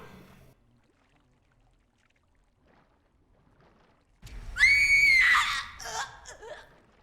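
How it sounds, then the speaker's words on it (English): A girl in the video game CAYNE lets out a loud, shrill, sustained scream after a long near-silent stretch, trailing off into shorter wavering cries. "This girl does good screams."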